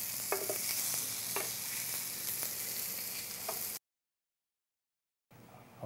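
Tuna steaks sear in a hot pan with a loud, steady, hissing sizzle and occasional crackling pops, close up and without talk, cut off by a short silence before the sizzle resumes.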